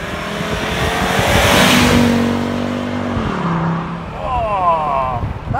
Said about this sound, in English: Okay, Chris, we've got a bit of straight road now, so perhaps you want to put your foot down?